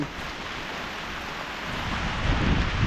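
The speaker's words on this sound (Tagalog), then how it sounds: "lumakas pa rin po ang ulan" Steady, dense hiss of heavy rain pouring down during flooding, with a low rumble swelling slightly toward the end; no voices.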